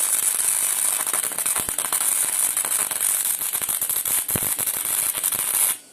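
Steel being tack welded for a blacksmith guillotine tool crackles and sputters steadily with sharp clicking pops, close and loud, until it stops abruptly at the end.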